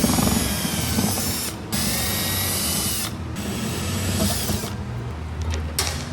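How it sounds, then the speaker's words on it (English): A power drill bores out rivets on the rub rail of a boat in several bursts with short pauses between, loud and close with a high whine over a grinding rattle. "We need to drill each one of these out."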